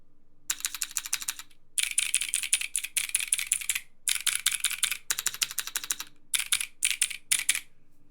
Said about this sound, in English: This is the Class 60 with my clicky build, and you can hear it here.